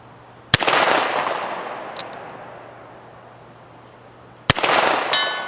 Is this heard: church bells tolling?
no